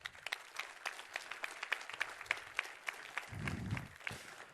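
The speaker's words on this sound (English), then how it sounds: "Please give a warm applause to Miłosz Warzecha." Scattered clapping from a conference audience at code::dive 2019, sparse and uneven single claps with a brief low rumble near the end.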